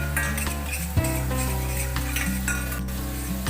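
Garlic fries in butter in a pan, the start of a tomato sauce for fried potatoes, with a continuous sizzle and light utensil scrapes under a steady tonal background.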